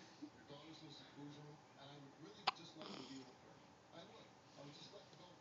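A young child hiccups once, a single sharp abrupt catch midway through, set against quiet room sound and soft background voices.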